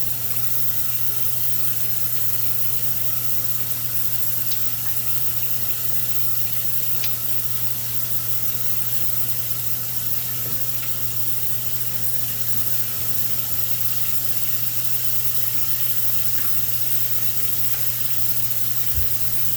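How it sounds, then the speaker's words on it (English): A continuous steady rush of hot water from a kitchen tap, unbroken and fairly close, with faint kitchen clinks and no talking. "I'll turn that hot water on."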